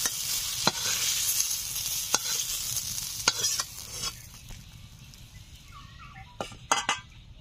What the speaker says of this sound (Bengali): উচ্ছেগুলো ভাজা হয়ে গেছে, তুলে নিচ্ছি।